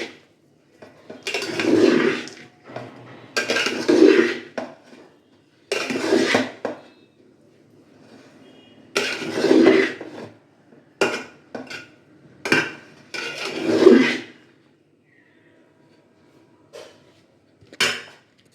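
Vegetable fried rice is stirred in a metal pan, with bursts of scraping and clanking utensil strokes separated by quiet pauses, close and distinct.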